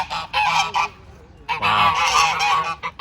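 Geese honking loudly and close by in Rome, harsh repeated calls in two bursts with a short gap between them.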